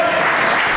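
A church congregation breaks into applause, a brief dense burst of clapping that fills the room at full volume.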